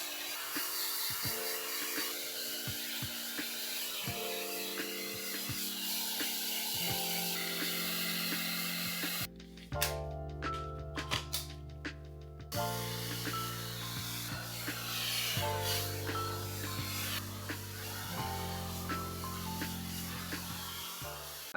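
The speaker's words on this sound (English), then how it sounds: "Now I'm going to take my Shark Flex style and blow dry." Shark FlexStyle hair dryer blowing hair dry, a steady loud airy whoosh with a shifting tone and a brief drop near the middle, played under continuous background music.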